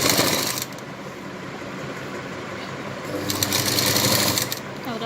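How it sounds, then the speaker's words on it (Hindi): A sewing machine stitches a blouse lining with a continuous close motor whir, steady throughout and swelling louder toward the end, without speech. "यहाँ पर सिलाई लगाएंगे"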